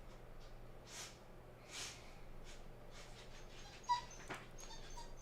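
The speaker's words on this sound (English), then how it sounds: "he'll be standing at the door whimpering and come back in." A dog whimpers and snorts softly at a door, a few short whines spaced out over low background hum, fairly faint and close.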